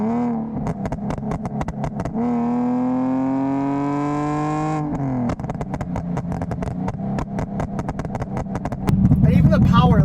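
A tuned BMW E46 325 with a Stage 3 tune revs hard, climbing in pitch and holding near the top before dropping off into crackling pops, then rising again, loud and close.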